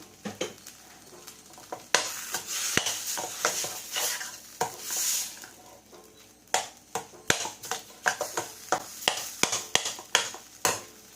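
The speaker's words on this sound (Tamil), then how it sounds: "அடுப்பை வந்து மீடியம் ஃப்ளேமில் வச்சுட்டு நல்லா 2 தடவை கிளறி விட்டா நம்மளோட உருளைக்கிழங்கு மசாலா ரெடி ஆகிடும்" Potato masala on medium flame, stirred with a spatula in a pan, sharp repeated scraping and tapping strokes over a soft sizzle, growing busier and quicker toward the end.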